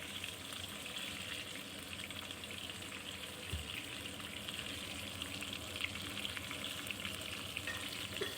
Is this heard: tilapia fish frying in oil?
yes